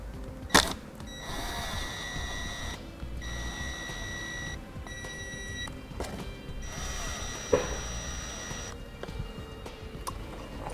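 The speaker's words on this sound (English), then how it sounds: "We'll go ahead and use the sheet metal screws that come with the brake controller and we'll attach it to the dash." A power drill drives sheet metal screws into a 2012 Toyota dashboard to mount a Tekonsha Prodigy P2 brake controller: several bursts of whining motor run at moderate volume, broken by short pauses and a couple of sharp clicks.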